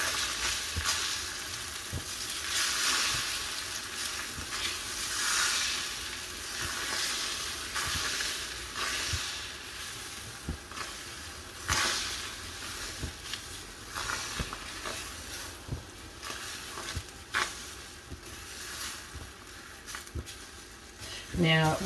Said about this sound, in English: And we'll just add our egg mixture. Now as that's cooking, we just want to be moving it around constantly.